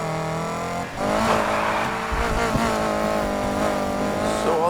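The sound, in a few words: car driving to the start line, from video game Need for Speed Heat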